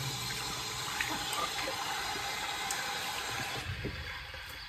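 Shower water runs continuously in a bathroom with a steady, close hiss and spatter that fades slightly toward the end.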